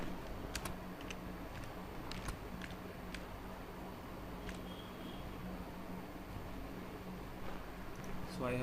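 Someone types a file name on a computer keyboard, a few faint, quick key clicks over a steady low background hum while a person talks.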